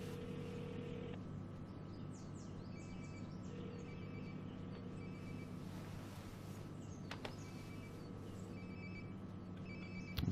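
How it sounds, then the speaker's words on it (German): A phone ringing close by in the video game Life is Strange: Before the Storm, a steady repeating electronic ring tone over a low game ambience and faint bird-like chirps, with no talking. "Sounds like my phone is definitely nearby."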